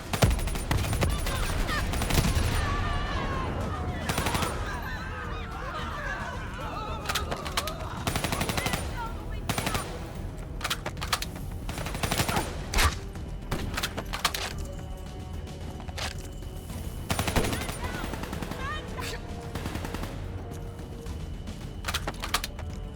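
Machine gun fire in the Call of Duty: Black Ops 3 campaign, with repeated sharp bursts and shots cutting through a dense battle mix of explosions, clatter and game noise across the whole stretch.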